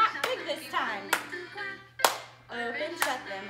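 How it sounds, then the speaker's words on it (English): Young children in a toddler class clap their hands in a few loud, separate bursts of claps, spaced roughly a second apart in a small room, with a faint steady hum underneath. "We're gonna clap big this time."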